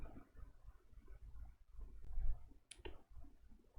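A few computer mouse clicks, sharp and faint, sit late in a quiet stretch over low room rumble, with one more click right at the end.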